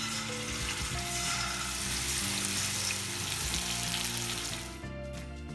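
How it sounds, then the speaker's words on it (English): Chicken pieces fry for biryani in oil reused from frying onions, giving a steady, continuous close sizzle that fills the whole stretch with no talking. "Now fry the chicken pieces."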